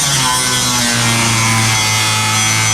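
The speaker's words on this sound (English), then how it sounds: "My grinder method is working" An angle grinder cutting nails out of a wooden storage shed wall on a farm, a loud, steady high-pitched whine with a slight pitch dip partway through, close and continuous.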